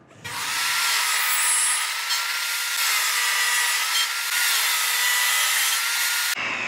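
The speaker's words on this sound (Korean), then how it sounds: "재단기로 가서 45도를 한번 날려보겠습니다." Cutting machine slicing wood at a 45-degree angle while building an owl-shaped wooden Bluetooth speaker, a single loud, steady high-pitched whine of the blade through the cut lasting several seconds before stopping abruptly.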